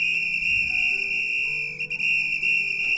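A whistle in the video game Autonauts, a steady high-pitched electronic tone held throughout with a faint second tone above it and brief dips near the middle, alone without voices.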